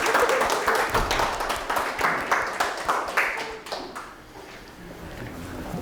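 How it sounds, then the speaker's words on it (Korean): An audience claps for a performer at a book concert, with dense, close applause that gradually thins and fades into a quieter patter. "큰 박수 부탁드릴게요."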